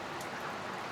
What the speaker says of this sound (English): It's raining now, isn't it?